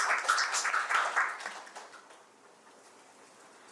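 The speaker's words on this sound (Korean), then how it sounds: "박수 한번 주세요." Audience applause at a book talk on dialect poetry, honoring a visiting university professor; scattered clapping that is brisk at first, then thins out and fades to quiet within a few seconds.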